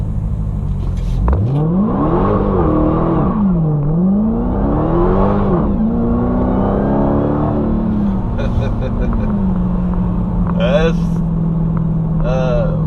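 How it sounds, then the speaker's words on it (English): Dodge Challenger Hellcat, a 2018 model, doing a burnout with traction control off: a loud engine roar sweeping up and down in pitch as it revs and spins the tires, then settling into a steady drone with a few sharp chirps near the end. "That's what you get when you floor it in a Hellcat. You get sideways and you get smoke."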